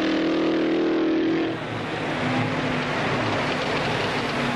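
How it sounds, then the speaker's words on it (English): A supercharged Novi V8 race car at the Indianapolis speedway during 1963 time trials holds a loud droning engine note, then the tone shifts and roughens as it passes, continuous and powerful throughout. "Following him onto the track is Jim Hurtubise in the famous Novi supercharged V8"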